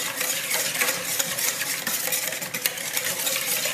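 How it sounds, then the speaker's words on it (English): Whisk beating apricot BBQ glaze with apricot chunks in a bowl, a quick, continuous close-up scraping and clinking with no voices. "Whisk this up real quick"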